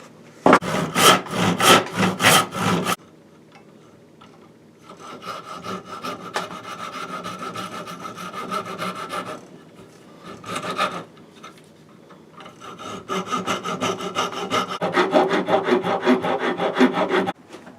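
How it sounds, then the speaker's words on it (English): Hand sawing and rasping into a wooden lever action rifle stock to cut a notch, in bursts of rapid back-and-forth strokes separated by short pauses, close and with no talk. "I just slowly take out the wood in between, and then I'm just going to finish it with a chisel"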